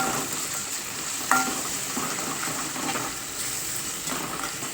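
Ginger garlic paste with tomato frying in a pan, a steady close sizzle throughout with occasional stirring scrapes and one sharp utensil clink.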